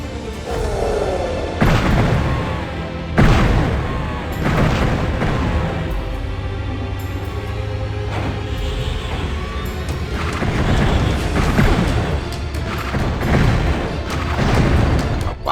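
Weapon shots and hits in the video game Heretic, a series of loud booming blasts every couple of seconds, each with a crunchy decaying tail, heard alone.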